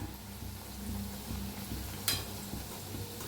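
Tomato puri frying in hot oil while being pressed down, a soft continuous sizzle with a brief sharp scrape or splash partway through, fairly faint and close, without speech.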